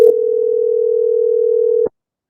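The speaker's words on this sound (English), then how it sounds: "Oh, wait, hold on. It's still ringing." A single steady tone from a telephone line holds for nearly two seconds on an outgoing call and then cuts off abruptly, loud and close with no voices.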